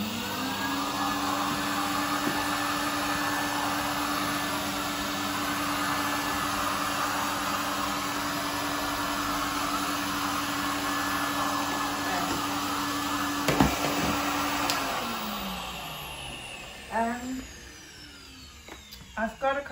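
A Hoover vacuum cleaner runs while it tidies up loose gold leaf. Its steady, loud whining drone holds for most of the time, then winds down near the end, and a few clunks follow.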